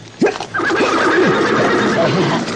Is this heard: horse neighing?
yes